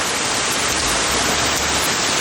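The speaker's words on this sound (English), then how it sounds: "Raining." Steady rain falls outdoors as a storm begins, a loud, continuous even hiss of drops with no breaks and no voices.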